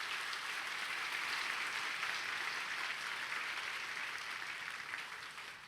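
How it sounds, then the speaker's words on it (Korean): A church congregation applauds to welcome guests at a worship service, a steady wash of clapping that holds evenly and then tapers off near the end. "우리 뜨겁게 박수로 환영하겠습니다."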